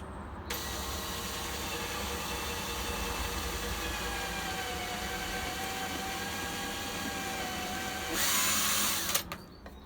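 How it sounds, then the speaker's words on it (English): A small power drill whines steadily at close range boring a small hole in pallet wood, then revs up louder near the end before stopping abruptly. "I'm drilling a little hole."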